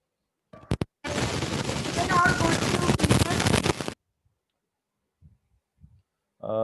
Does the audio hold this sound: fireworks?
yes